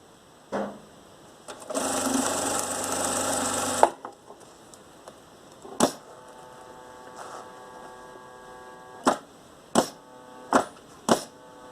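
Fabric stitched on a sewing machine in one brief, loud whirring run of about two seconds, followed by a mains hum and a few sharp knocks and clicks of handling; close, with no talking.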